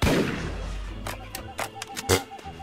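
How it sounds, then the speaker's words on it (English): Gunfire from a pirate's gun in the online game Pirates Online: a loud burst at the start, then a string of sharp shots at irregular intervals, with no talking. "Let's go ahead and switch to the gun."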